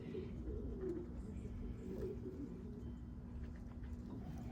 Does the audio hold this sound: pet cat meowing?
no